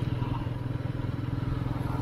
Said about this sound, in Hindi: और अभी बाइक चल रही है 25 के स्पीड में और गियर का पोजीशन है 2